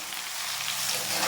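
Elephant foot yam stalks fry in a pan with a steady, close, bright sizzle of hot oil, crackling evenly throughout with no voices over it.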